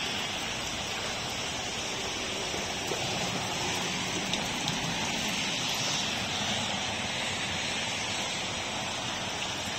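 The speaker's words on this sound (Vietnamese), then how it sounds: "Trời đang mưa à." Rain falling on a backyard koi pond, a dense, steady hiss and patter that holds evenly throughout, loud and close with no voices.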